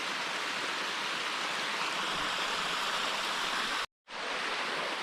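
Water cascades down a rocky stream at Zebra Rock Cascades in the Wichita Mountains, a constant close rushing wash that cuts out for a moment before resuming.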